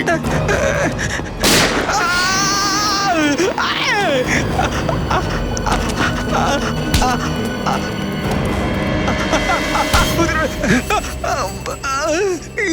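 Gunfire in a CID crime drama set during the Ganesh Chaturthi festival: a few sharp, loud bangs burst out amid a dense mix of music, effects and shouting voices.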